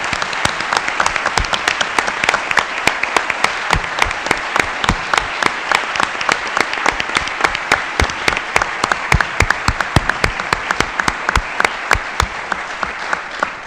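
Sustained audience applause at a book presentation honouring Alonso Lujambio, a dense, even crowd of hand claps that stays loud throughout.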